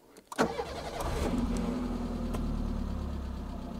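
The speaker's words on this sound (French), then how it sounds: "Regardez, elle démarre nickel." A used Peugeot 206 hatchback with high mileage cranks briefly and fires up, then settles into a steady, even idle that carries on close by for the rest of the clip, with no talking.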